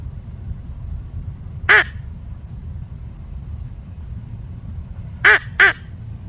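Handheld crow call imitating crow caws: one loud, harsh caw, then a pair of caws a few seconds later, close and distinct over a low outdoor rumble.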